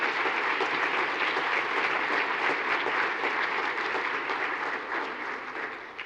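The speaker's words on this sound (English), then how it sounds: "Let's give a round of applause to all the nominees tonight." Audience at an awards ceremony gives a round of applause for the nominees, a steady, moderately distant clapping that fades slightly toward the end.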